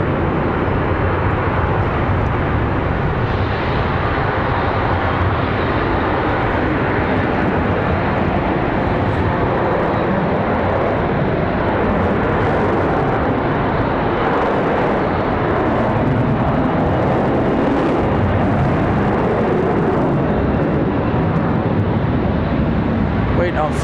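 A passenger airliner departs Charlotte Douglas airport, its engines a steady, loud, broadband roar that holds throughout with no clear rise or fade, voices faintly mixed in underneath.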